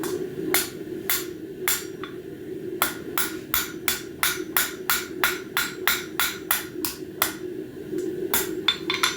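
Hammer blows ring out against the front face of an anvil while metal is shaped into a bird feeder hanger, sharp clangs coming in irregular bursts, then a steady rapid series of strikes close by.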